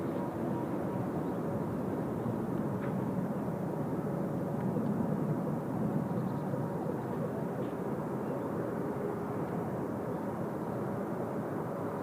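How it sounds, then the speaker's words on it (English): A Korean Air airliner in new livery taxis for departure at Incheon Airport, its steady engine rumble and whine held at moderate distance for the whole stretch, with no talk over it. "Now there's our Korean Air in the new livery. Just taxiing for departure"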